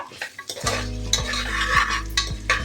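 Ginger garlic paste and cashews fry in a pan while a metal spoon stirs and scrapes, bright sizzling bursts mixed with repeated clanks against the pan for a chicken dum biryani.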